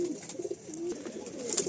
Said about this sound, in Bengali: খুব সুন্দর চোখ আর খুব সুন্দর ফেস শেপের পায়রা